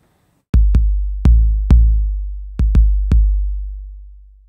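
Seven punchy kick drum hits through a Shadow Hills preamp on the discrete setting, in an uneven pattern, each with a deep low thump and a short decaying tail, played dry and alone.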